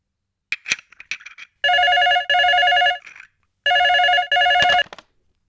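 An old-style telephone bell rings indoors in a home, two bursts of loud double rings separated by a pause, preceded by a few faint clicks and knocks.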